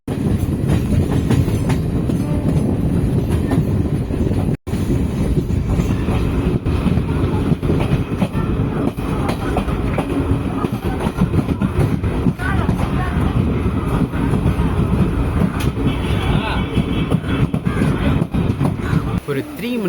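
The Tambaram-Trichy Express rolls along the rails with a loud, continuous rumble and rhythmic clickety-clack of the wheels, heard close up from aboard the train.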